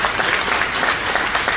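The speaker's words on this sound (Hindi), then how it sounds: "ये ताली जोरदार बजाया" Schoolgirls at a Jaipur school clap loudly and steadily in a dense burst of applause, with no voices standing out.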